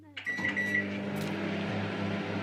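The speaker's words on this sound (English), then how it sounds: "Microwave time." A microwave oven hums steadily after a click and a short beep, its low drone continuing to the end.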